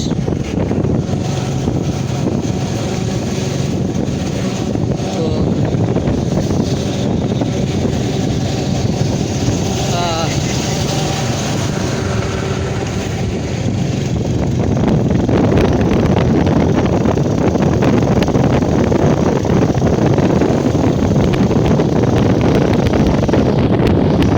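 Strong wind roaring into the microphone while riding a motorbike, a loud continuous rushing buffet that swells and thickens in its second half, with no voices.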